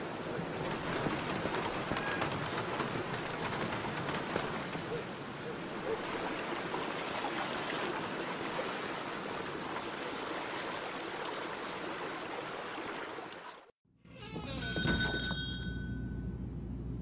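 Steady, dense rain hisses in The Black Mirror video game for most of the passage, loud and even, before cutting off to a short stretch of other game sounds.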